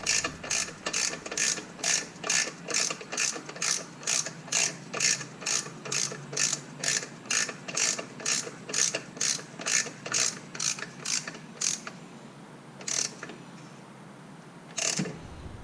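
Hand ratchet clicking in steady rapid bursts while tightening the thermostat housing bolts on a 1986 Chevrolet Camaro IROC-Z, close and crisp, with a brief pause and a couple of final strokes near the end.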